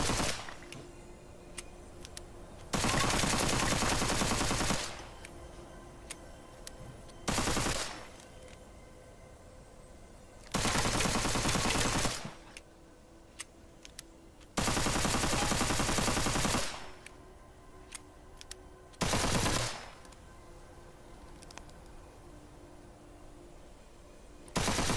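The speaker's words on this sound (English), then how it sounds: "I'm actually having a bug right now where I don't stop shooting." Continuous automatic gunfire from a shooting glitch in the video game Witchfire, on PC, comes in loud bursts of about two seconds each, five in all, separated by quieter game ambience, with no talking.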